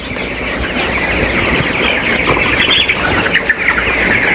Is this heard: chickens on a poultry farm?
yes